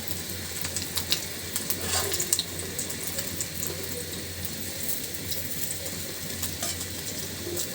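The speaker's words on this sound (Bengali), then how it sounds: "একটা ভাজা হয়ে গেল, আর একটা ভেজে নিব" An egg frying in a pan at home, a continuous crackling sizzle with scattered sharper pops and spatters throughout, fairly close, no talking.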